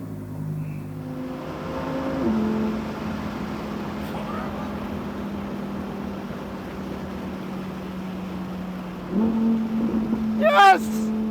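A Lamborghini's 5.2-litre naturally aspirated V10 drones loudly and steadily, its pitch stepping up a couple of times before a sharp rising whine near the end.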